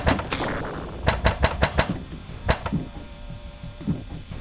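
A Torpedo Alley pinball machine launching a ball and starting play, with a quick run of sharp mechanical clacks and thumps, then scattered flipper and bumper hits fading into a quieter hum.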